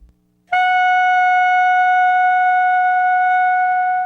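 A clarinet mouthpiece with its reed, blown on its own without the rest of the instrument, gives a single loud, steady, high-pitched squealing tone that starts abruptly after a short silence and holds unbroken to the end.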